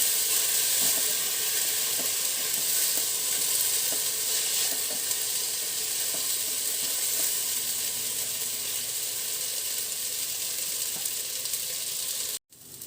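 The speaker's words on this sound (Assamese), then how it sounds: "চব্জি আৰু চাউল ধুনীয়াকৈ মিলাই ল'ম।" Rice and vegetables stirred and fried together in a pressure cooker pan for paneer pulao, a continuous close sizzle with soft scraping stirs, ending abruptly.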